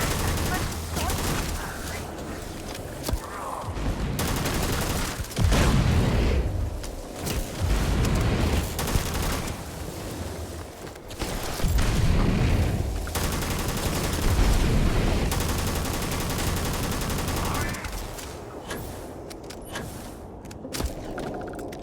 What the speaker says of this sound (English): Try to shoot him.